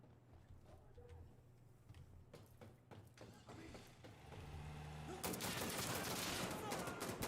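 Gunfire in the shooter Insurgency Sandstorm: scattered distant shots at first, then a loud sustained burst of machine gunner fire swelling near the end, with a voice talking faintly beneath.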